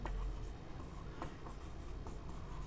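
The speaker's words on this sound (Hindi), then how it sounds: "यहाँ पर जैसे मैं लिखता हूँ" Pen scratching Hindi shorthand (steno) outlines onto paper, faint strokes in short bursts under a steady background hiss, close by.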